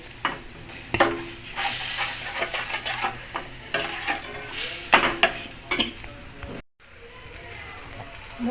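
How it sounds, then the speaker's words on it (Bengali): Spice paste of ground coriander and cumin is stir-fried in a pan for a Bengali katla fish kalia, with steady close sizzling broken by repeated scraping and clinking spatula strokes, and a brief silent gap near the end. "বন্ধুরা দেখেন আমার মশলাটা অনেক সুন্দর করে আমি কষে নিয়েছি।"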